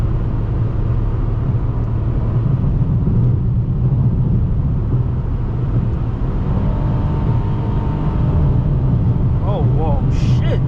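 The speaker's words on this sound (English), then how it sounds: "listen to how much fucking wind noise, bro, this car brings in" Constant loud roar of wind and road noise inside a moving 2022 Mitsubishi Mirage G4, a heavy low rumble filling the whole stretch with faint voices underneath.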